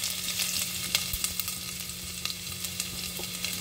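Whole spices tempering in hot oil sizzle steadily with a dense crackling hiss, joined by the added finely chopped ginger; scattered pops and brief stirring clicks sit over a low hum, with no talk.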